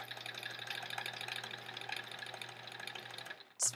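A sewing machine runs steadily while piecing quilt squares, a continuous motor drone with a low hum that sounds like it is straining, then stops with a brief sharp click.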